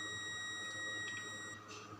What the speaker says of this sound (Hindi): ये फ्यूज पे हमारा बजर बज रहा है, फ्यूज पे हमेशा बजर बजेगा।